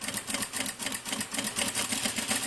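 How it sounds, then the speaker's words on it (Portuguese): An industrial straight-stitch sewing machine sewing bias binding, running in a fast, steady mechanical clatter with a regular rhythmic pulse, close and continuous throughout. "Daí eu começo a costura."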